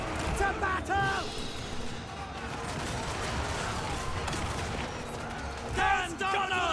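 Gunners of the Empire army fire a volley in the Total War: Warhammer 3 battle game, a dense crackling fusillade of shots over battle noise, with a voice briefly heard at the start and end.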